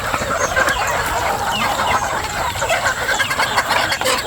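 Backyard chickens, early-bird and local breeds, cluck and chatter steadily while pecking at micro pellet feed, a dense continuous flock noise with a faint engine hum underneath.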